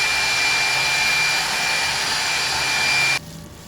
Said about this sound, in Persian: بعد میرم یه ذره سشوار میگیرم بهش، چون خیلی سرده.